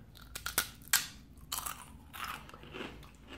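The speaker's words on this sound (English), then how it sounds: "There's a lot of bit of crunch in it." Pastinos Arrabbiata pasta snacks crunched between the teeth, with several sharp, close bites followed by a run of softer, rapid chewing crunches.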